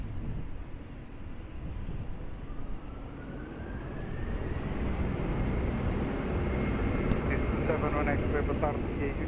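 Airliner taking off from runway 20 at Lisbon Airport, its jet roar building steadily and then holding loud across the clip, with radio voices from air traffic control underneath.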